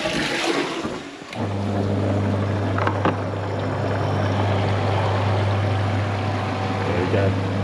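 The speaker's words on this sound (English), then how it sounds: "Let's give it a flush and make sure everything's all right." A toilet fitted with a macerator unit flushes: after a short pause a steady motor hum starts and keeps running under rushing, gurgling water, with a few clicks and knocks, heard close up in a small room.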